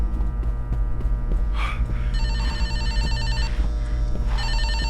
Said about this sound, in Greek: Κι αν τηλέφωνο χτυπά